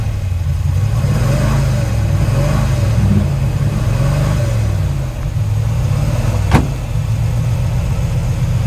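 A 1940 Mercury Club Coupe, a 1960s street rod barn find, revs its engine repeatedly in rhythmic rises and falls over a rough, lumpy idle, loud and close, with one sharp click partway through.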